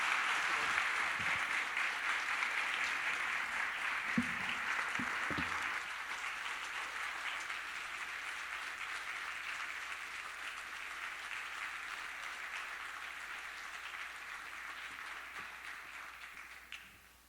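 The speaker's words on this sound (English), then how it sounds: "One more round of applause to our great speakers." Sustained applause from a morning business breakfast audience thanking its speakers, steady and dense clapping that holds for over fifteen seconds before stopping abruptly.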